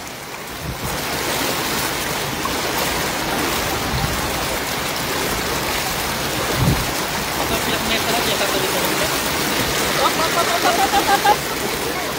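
Steady, dense roar of heavy rain mixed with rushing water, broadband and continuous, with a few brief knocks and faint voices underneath.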